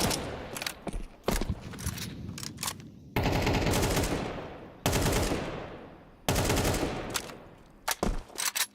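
Rapid automatic gunfire bursts in a Counter-Strike esports match, loud sustained volleys separated by short gaps with scattered single shots and clicks, no talk.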